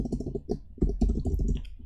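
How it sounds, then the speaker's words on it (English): Quick typing on a computer keyboard, a close, rapid run of sharp key clicks with brief pauses and no talk. "quickly typing something in the Discord"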